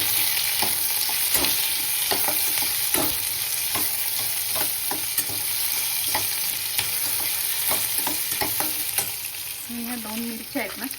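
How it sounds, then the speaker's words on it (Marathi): Tomatoes are stirred into onions frying in a pan, the loud steady sizzle running throughout with repeated spoon scrapes and taps against the pan, close up. "आता ह्याच्यामध्ये ना मी टमाटा घालते"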